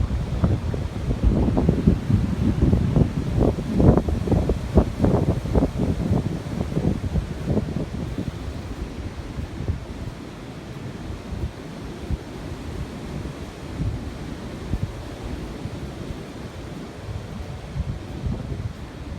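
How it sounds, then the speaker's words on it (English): Strong gusty wind on an open Appalachian Trail bald as a storm builds, a loud rushing roar buffeting the microphone that gradually eases into a steadier, lower bluster. "It's just starting, the wind is just starting to get up."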